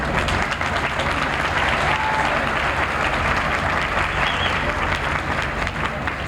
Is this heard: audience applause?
yes